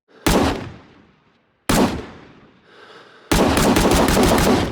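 A non-select-fire rifle in the shooter Rising Storm Vietnam fires three loud, close shots. The first two ring out with fading echoes, and the last runs into a sustained, dense roar.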